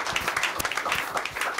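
Close, moderate clapping from a studio audience on a talk program, with distinct individual claps forming a busy, uneven patter throughout.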